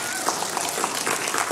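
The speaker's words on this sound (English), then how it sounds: "Can we give a round of applause for the wonderful worship team?" A church congregation applauds its worship team, with dense, continuous clapping close by that stays fairly even for a brief moment, with faint voices mixed in.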